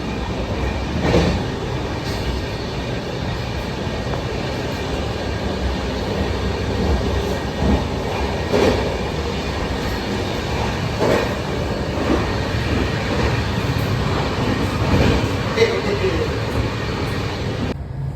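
A train runs steadily past near Bolpur, its deep rumbling roar joined by a rhythmic clickety-clack of wheels over rail joints, loud and continuous for the whole stretch.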